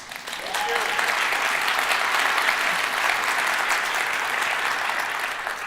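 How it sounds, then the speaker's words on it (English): A large audience at the Flint mayor's 2024 State of the City address applauds steadily, a dense wash of clapping that swells in after a brief moment and holds loud throughout. "And that's for a round of applause for 5."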